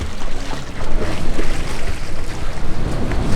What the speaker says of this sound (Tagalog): Sarap ng tunog ng alon man.